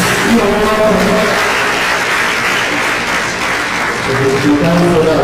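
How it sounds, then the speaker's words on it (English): An audience at a college lecture of food, agricultural science and technology claps for themselves, a dense, sustained round of applause filling the hall with faint voices mixed in. "please clap for yourselves"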